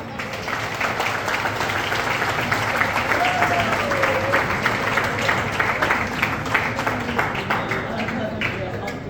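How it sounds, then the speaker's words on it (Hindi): A crowd at a direct-selling event in Nainital, Uttarakhand gives loud applause for Vyas sir, dense sustained clapping across the whole stretch with voices mixed in beneath it. "व्यास सर के लिए एक जोरदार ताली"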